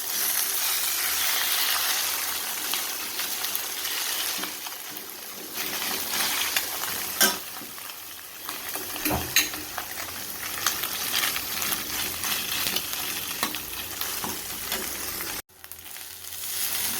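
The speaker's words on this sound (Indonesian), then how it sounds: "ekor ikan kita goreng sampai mengering seperti ini ya guys" Fish tails sizzle and crackle steadily in hot oil, a dense frying hiss with occasional pops and stirring scrapes, close and continuous, briefly cutting out near the end.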